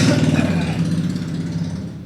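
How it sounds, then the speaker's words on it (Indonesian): A motorcycle with a loud aftermarket exhaust passes close by outdoors, its throaty rumble strong at first and then slowly fading as it moves away, with no talking over it. "Tahan dulu, ada knalpot."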